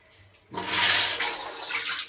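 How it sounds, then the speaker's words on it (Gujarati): After a quiet moment, water suddenly starts running from a tap, a loud close gushing rush that continues steadily. "અહીંથી આમ ચાલુ કરો એટલે જો અહીંથી આમ પાણી આવશે"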